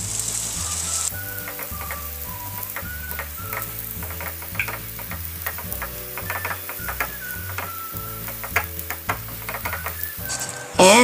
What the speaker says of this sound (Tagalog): Tunawin lang natin yan. Ayan. Tapos, lagay natin yung ating katafi. And then, i-brown natin ito.